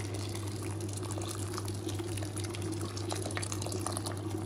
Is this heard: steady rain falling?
no